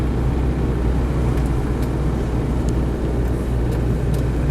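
Land Rover Defender 110 CSW with a 200TDi diesel engine driving steadily, a constant low rumble of engine and road noise filling the whole stretch at even loudness with no talk.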